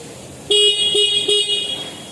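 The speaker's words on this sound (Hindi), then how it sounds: "इसका हॉर्न जो है वो काफ़ी कम भी फील होता है" A TVS Raider 125 motorcycle horn honks three times in quick succession, close and loud, the middle toot shortest.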